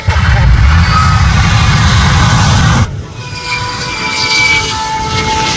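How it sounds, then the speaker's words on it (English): A J79 jet engine mounted on a truck roars loudly with a deep, rumbling blast, then abruptly drops to a lower, whining idle that lingers. "Now watch closely as Hollywood pulls up the J79."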